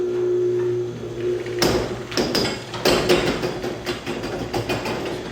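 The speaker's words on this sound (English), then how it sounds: "let me go open this door and I want you to listen real close how" A Liftmaster garage door opener motor hums steadily, then the garage door rattles and clanks as it starts moving, with repeated metallic knocks and creaks from the spring.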